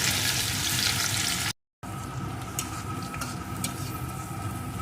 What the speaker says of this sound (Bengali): এখন কিছুক্ষণ এই রসুন আর চিনিটাকে একটু ভেজে নেব